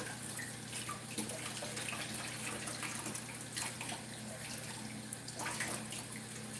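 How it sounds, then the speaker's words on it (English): Tap water runs steadily over hen of the woods mushroom being rinsed in a kitchen, a soft continuous splashing with faint irregular spatters. "First, I want to do is rinse this off"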